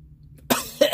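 A person coughs twice in quick succession, close up and loud, after a moment of near silence.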